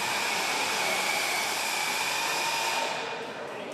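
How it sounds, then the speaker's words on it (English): Small engine of an RC garden tractor straining through a tractor pull on a dry dirt track, a steady high-pitched buzzing whine that holds loud and constant, then drops off slightly at the end. "Left lane, RC garden tractor. He's going to go all the way."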